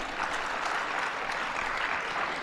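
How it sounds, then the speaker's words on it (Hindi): Seated participants at an administrators' seminar applaud together, a steady even wash of clapping at moderate distance that holds at constant strength throughout. "तो आज आप अपने लिए ताली बजा दीजिए।"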